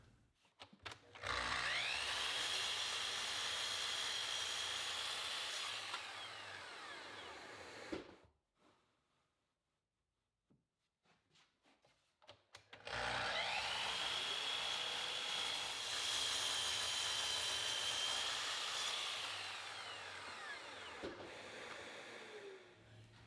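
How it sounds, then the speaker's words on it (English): A saw cuts wooden planter legs to length in a woodworking shop, making two long, loud, steady cutting runs separated by a few seconds of near silence. "put the square side against the stop block and cut all the legs to length"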